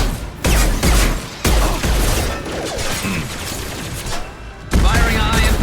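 Heavy gunfire from the video game Mass Effect 2, with loud, dense bursts and booming shots on a chaotic battlefield, over background combat noise and scattered in-game voices.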